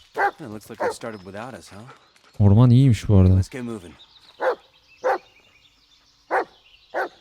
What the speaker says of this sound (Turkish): Aynen. Havlıyor.